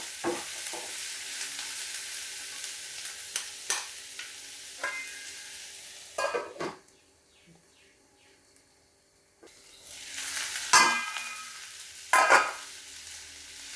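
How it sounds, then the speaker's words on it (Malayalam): Masala sizzling and frying in a pan with salt and ginger-garlic paste, stirred now and then with scraping clatters, loud and close, fading to near quiet in the middle before the sizzle returns. "ഒരു ഇച്ചിരി ഇഞ്ചി വെളുത്തുള്ളി പേസ്റ്റ് ഇട്ട് കൊടുക്കാം. നല്ലപോലെ ഒന്നുകൂടെ ഇളക്കി കൊടുക്കും."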